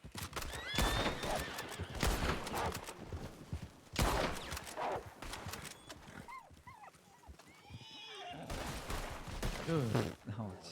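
A horse whinnies several times amid galloping hooves and bursts of gunfire in the role-play video game WildRP, with a voice talking now and then.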